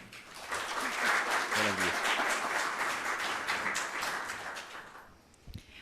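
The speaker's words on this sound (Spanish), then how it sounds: "Le brindamos un fuerte aplauso" An audience applauds to welcome a doctor to the stage at a talk on electoral candidacy requirements. The clapping is moderate and steady with a brief voice mid-way, then fades out near the end.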